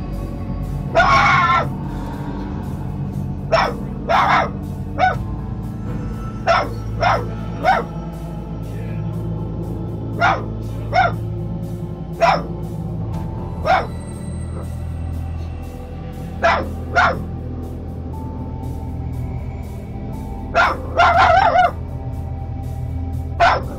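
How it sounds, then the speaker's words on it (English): A dog barks repeatedly at a doorway indoors, sharp, fairly loud yelps in irregular bursts over a low steady background hum, some barks doubled up close together. "See the dog continuously barking at the doorway"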